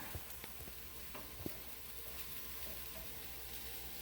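Lean ground meat being stirred in a hot pan, a faint low sizzle with soft scraping and a few light clicks near the start, quiet and steady with no voices.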